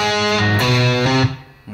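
Electric guitar plays a riff slowly with hybrid picking, a few distorted, sustained notes ringing close and clear before decaying, with one short note at the end.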